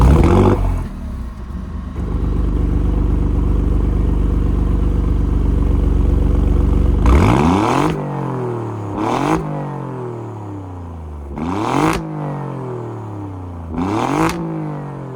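A 2024 Alfa Romeo Giulia Quadrifoglio engine in race mode, starting with a loud steady idle and then giving four sharp throttle blips, each rising to a snarling peak and falling back to idle, heard close by and without talk.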